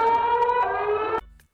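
An emergency alert system alarm sounds loud and close, a sustained multi-tone electronic blare that cuts off sharply after about a second, followed by a brief faint tail and a short blip.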